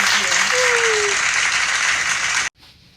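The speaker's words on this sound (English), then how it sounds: "let's give a nice round of applause to Athena and get started" Audience applause greets a guest at a live onstage interview event, a dense, steady wash of clapping that fills the room for about two and a half seconds, then cuts off abruptly into near silence.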